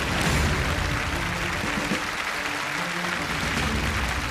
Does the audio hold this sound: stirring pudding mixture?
no